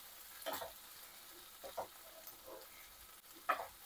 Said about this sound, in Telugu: ఆ వెల్లుల్లి పేస్ట్, అల్లం వెల్లుల్లి పేస్ట్ పచ్చివాసన పోయే వరకు వేయించేస్తున్నాను నేను